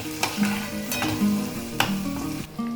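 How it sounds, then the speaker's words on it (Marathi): Onion fries in a pan while being stirred, with steady sizzling and scraping strokes of a spoon, close and moderately loud with no talk. "आपल्याला कांदा गोल्डन ब्राऊन होईपर्यंत फ्राय करून घ्यायचा आहे."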